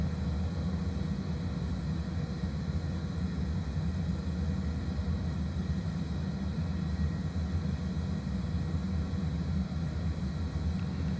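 A simulated airliner takes off in a VATSIM flight simulator game, with a steady, dense engine roar and low rumble held at a constant level throughout, no voices.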